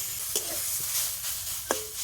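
Grated potato and carrot being stirred in a frying pan, a soft continuous sizzle with a few sharp scrapes of the spatula against the pan.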